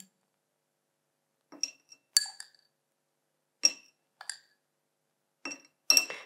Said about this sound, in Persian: به کمک قاشقی که داریم مقداری از این جوش شیرین به داخل ظرف شیشه‌ای